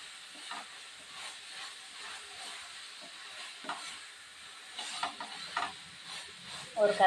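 Brinjal curry with added ground spice powder stirred in a pan, a soft low hiss and sizzle with faint intermittent scraping strokes, quiet and close, a brief louder clatter near the end.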